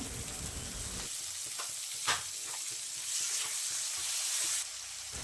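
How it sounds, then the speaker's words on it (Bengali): Chopped yardlong beans fry in oil with minced garlic in a pan, making a continuous close sizzle. Several short stirring scrapes break up the sound as the beans are tossed. "বরবটিটা একটু আমি তেলে ভেজে নেব, খেতে ভালো লাগবে তার জন্য।"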